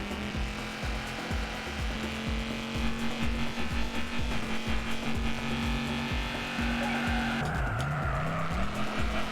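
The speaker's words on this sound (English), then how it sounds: "This car is making some really strange engine noises." Car engine in the racing video game Juiced 2 making strange, rapidly pulsing revving noises, a loud steady drone with rhythmic stutters and a brief dip in pitch near the end.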